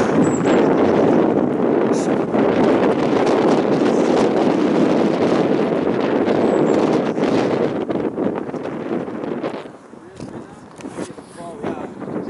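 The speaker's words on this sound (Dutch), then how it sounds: "Ja, toch is de wind nog niet helemaal gaan leggen." Strong wind buffeting the microphone outdoors, a loud continuous roar that eases slightly toward the end.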